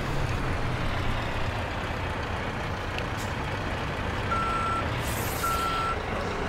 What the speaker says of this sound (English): To reverse a dolly trailer, you need a lot of room to maneuver to the truck